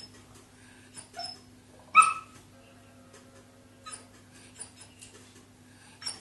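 Nova Scotia duck tolling retriever puppy, about three and a half months old, making soft whimpers and yips in its sleep, a few brief scattered sounds over a quiet indoor hum.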